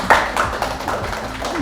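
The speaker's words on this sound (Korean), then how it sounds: "모두 큰 박수로 작가님을 환영해 주시면 감사하겠습니다." Applause welcoming an author at a book talk event, a modest crowd clapping in scattered, uneven bursts, fairly close and brief.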